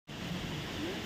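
A waterfall at Kailash Gumpha in Jashpur, Chhattisgarh, pours with a steady, dense roar that fills the clip from start to finish without break.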